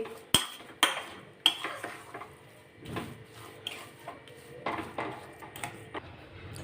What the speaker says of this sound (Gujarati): તો આ રીતના આપણે હલાવતા જશું જેથી સરસ રીતે ગોળ મેલ્ટ થઈ જાય